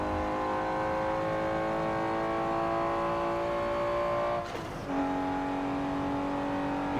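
Nissan GT-R R35 engine in a racing video game, a loud steady high-rev drone climbing in pitch, briefly dropping at a gear change near the end before pulling again, with no talk.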